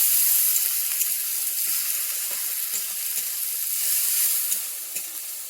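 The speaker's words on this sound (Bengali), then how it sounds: "একটু ভালোভাবে মেলে নিচ্ছি যাতে পেঁয়াজের কাঁচা ভাবটা চলে যায়" Onions fry with Kashmiri chilli powder for a Bengali bhola fish curry, a loud, continuous hissing sizzle with steady stirring scrapes running throughout, close up and without speech.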